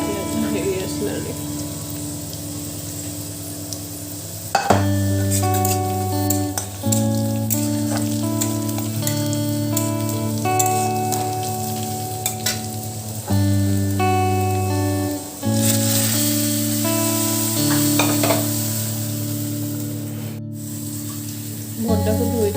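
Onion, cumin and dried red chilli fry in hot oil as a tempering for boiled dal, giving a steady, continuous sizzle that runs under background music throughout.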